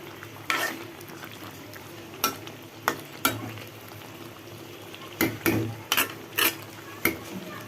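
Spiced curry being stirred and fried in a pan, a low continuous sizzle broken by several sharp clanks and scrapes of a spoon against the pan at irregular intervals.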